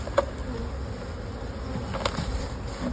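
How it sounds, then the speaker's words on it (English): A steady, close drone of honey bees rises from an opened single brood chamber hive during an inspection, with a couple of brief clicks breaking the continuous buzz. "Plenty of bees in here still"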